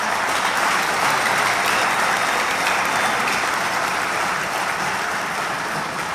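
Sustained applause from a large crowd at an outdoor political rally in Kosovo, dense and steady clapping that fills the whole stretch at constant loudness.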